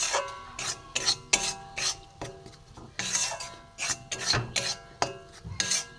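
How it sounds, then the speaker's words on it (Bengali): Flour being dry-roasted in a pan over a low gas flame is stirred with quick, rhythmic scraping strokes, roughly two per second, close and clear. "ময়দাটা আমি ভেজে নেব একটু ভালো করে।"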